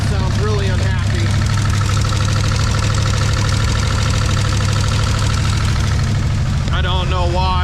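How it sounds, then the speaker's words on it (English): A 1937 Ford engine idles loudly and steadily with one unhappy-sounding valve, a rough rhythmic clatter running under the drone, while a person talks briefly at the start and end. "one of the valves sounds really unhappy"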